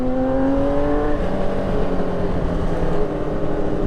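A custom Honda Fireblade motorcycle engine hums steadily while being ridden, pitch gently falling as it settles, under constant loud wind rush with no talking.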